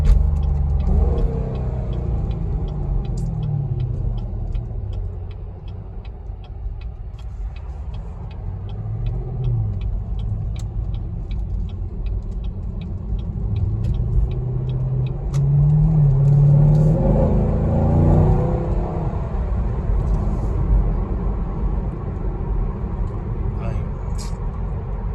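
Low exhaust burble from a Chevrolet SS car while driving, a steady close rumble with brief swells of revving, continuing under someone talking throughout.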